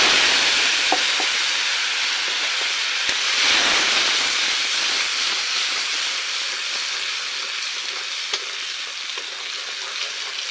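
Continuous hissing of boiling water giving off steam, steady and close, with a few faint clicks and no talking.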